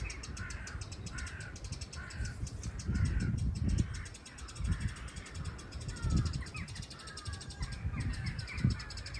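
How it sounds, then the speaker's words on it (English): A wren gives repeated harsh alarm calls at a cat on a croft, a steady run of scolding notes over rustling background noise, with a voice faintly audible. "The wren kept on screaming at Weasley, victorious."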